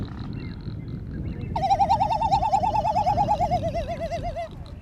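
Male great frigatebirds call during a courtship display on Genovesa in the Galápagos: a warbling, wavering trill rises after a quieter start and holds for about three seconds over a constant low rumble.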